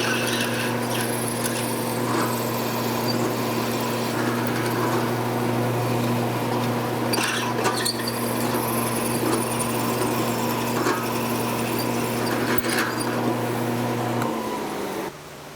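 A drill press with a letter Q bit (0.332 inch) enlarges holes in a steel forging die for a custom bolt head. It runs as a steady, loud motor whine with faint cutting noise throughout and stops near the end.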